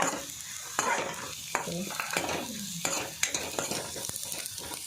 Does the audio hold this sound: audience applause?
no